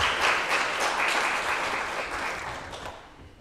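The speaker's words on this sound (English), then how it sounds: "Yes, let's give them a round of applause." An audience applauds at a spring studio benefit recital, a dense, steady round of clapping that fades gradually toward the end.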